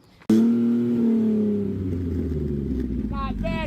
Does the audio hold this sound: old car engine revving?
yes